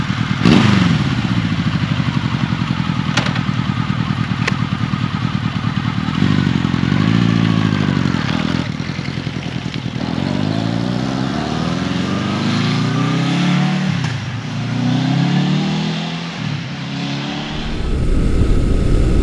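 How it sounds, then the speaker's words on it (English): A 1979 Honda CB750K motorcycle ridden on the road, its engine droning loudly and steadily with repeated rising and falling revs through gear changes, then cutting off near the end. "I'm currently riding Honda's 1979 CB750K."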